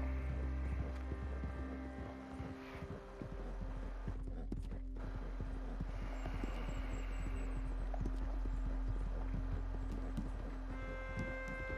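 A horse gallops in Red Dead Redemption 2, its hoofbeats a steady, close, continuous patter over a constant low hum, with no talking.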